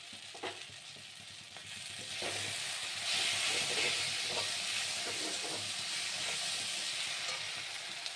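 A fried catla fish head drops into mung dal sizzling in a pan, giving a steady, fairly loud hiss and crackle of frying with a few stirring scrapes, no talk.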